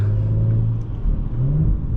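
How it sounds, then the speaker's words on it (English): The exhaust of a 2020 Audi S4 with its 3.0T engine growls up close as the car accelerates, the low drone briefly easing before rising in pitch again. "I think the exhaust here sounds great."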